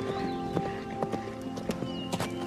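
A ridden horse clip-clops along with irregular hoofbeats at a moderate distance, and a faint whinny and ambient noise can be heard underneath.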